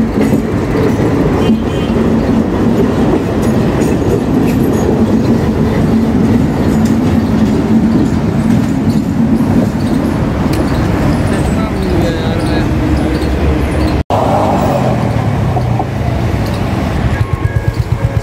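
A train passes close and loud in Delhi, its steady rumble and clickety-clack of wheels on rails running almost the whole time, with a brief break near the end and a squeal of wheels. Faint talk may sit under it.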